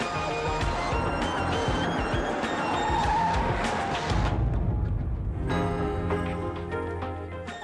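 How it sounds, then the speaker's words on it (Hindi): A car skids loudly with squealing tires for several seconds before the noise cuts out; engine and road noise resume and carry on steadily afterward. "ड्राइवर जरा गाड़ी रोकना।"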